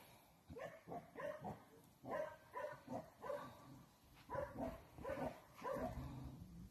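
A dog barks repeatedly in short yappy bursts, a quick uneven string of barks heard at a modest distance.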